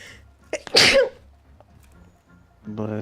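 A single sharp sneeze bursts out close by, followed by quieter shuffling and a brief voice near the end.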